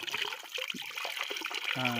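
Cold spring water bubbling up from the ground trickles and flows steadily close by, a continuous watery gurgle with a voice speaking over it.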